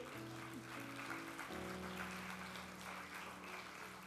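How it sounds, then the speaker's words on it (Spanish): A church congregation claps for the Lord, a dense, steady wash of many hands applauding at moderate distance, with faint sustained musical tones underneath. "cántale un aplauso al Señor"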